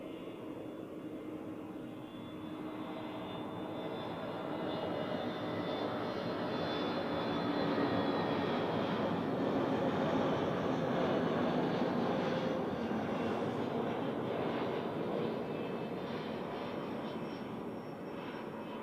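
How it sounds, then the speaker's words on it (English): Pegasus Airbus A320neo from Izmir landing at Zurich Airport, a jet roar with a descending whine that swells to a peak in the middle and slowly fades, heard alone without talk. "here we have Pegasus from Izmir, an A320 Neo"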